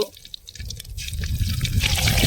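Cooking oil pours into a pan with a liquid trickling gurgle that grows steadily louder and fuller as the pour goes on.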